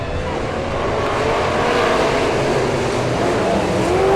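Speedway race cars on a dirt track roar together as a 25-lap championship race gets under way, a loud, sustained engine drone that builds steadily, with rising revs weaving through.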